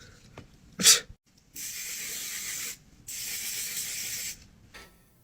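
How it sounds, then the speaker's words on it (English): Two sustained hissing sprays of Until Dawn Mattifying Waterproof makeup setting spray, each lasting over a second, close up, after a short sharp puff and quiet handling sounds. "I'm definitely double setting with the Until Dawn Mattifying Waterproof Setting Spray"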